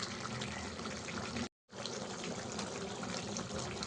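A small bowl of water is poured into coriander chicken cooking in a pan, a faint steady gushing pour that briefly cuts out before continuing.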